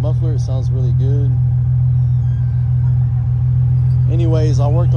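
A 2010 Ford Mustang V6 engine with a Flowmaster muffler idles with a steady low, throaty exhaust rumble, loud and close, while a person talks over it at the start and end.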